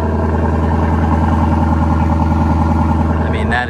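A 2021 Lexus LC500 Convertible idles after start-up with a steady, deep, burbling engine drone, loud and close, holding even throughout before easing slightly at the very end.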